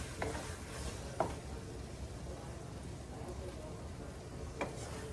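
Meat stir-frying in a pan over a raised flame, a soft continuous sizzle with a few sharp utensil scrapes and taps, fairly quiet and close.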